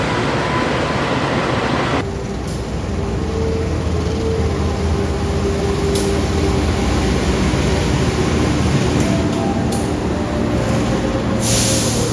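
A train shunts through a station with a continuous loud rumble and rattle of wagons, joined by a high steady whine and a few sharp clanks or brake hisses.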